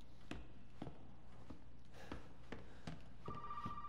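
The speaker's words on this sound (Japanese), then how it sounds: "ぶっちゃけゾイの電話無視してもクリアできるからな" A telephone rings briefly near the end of a scene in the horror video game Resident Evil 7, while slow, heavy footsteps thud at regular intervals in a quiet interior.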